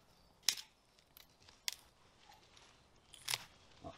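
A bent-back willow stem is cut low down during withy making, giving a few crisp, close snipping clicks spaced apart against a quiet outdoor background.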